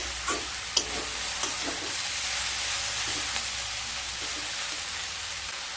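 A potato and cabbage fry with coriander leaves being mixed in a hot pan: a continuous close sizzle with a few sharp scrapes of the spatula early on, then a steady frying hiss.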